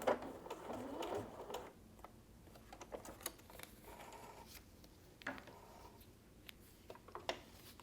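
A sewing machine stitches a line on a foundation paper-pieced quilt block, a short close mechanical run at the start, then quieter handling and clicks.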